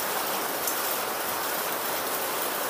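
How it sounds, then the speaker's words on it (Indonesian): Rain falling steadily under a tree, a dense, even patter and hiss throughout with no gaps and no voices. "Lagi hujan Mami, udah gelap Mami."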